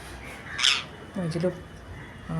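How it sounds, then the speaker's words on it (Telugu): Crows feeding on scattered rice among a flock of parrots give a sharp caw followed by rougher squawking calls, moderately close, with a low voice or bird murmur in between. "ఈ గుంపులోనే కాకులు వస్తున్నాయి, అవి కూడా తింటున్నాయి."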